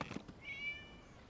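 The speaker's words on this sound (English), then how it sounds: "It's a cat." A cat gives a single short meow, faint and somewhat distant, in Genshin Impact.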